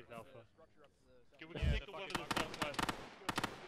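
Gunfire crackles from the west in a military video game, with several sharp bursts and shots in quick succession, moderately near, following radio-style chatter from players.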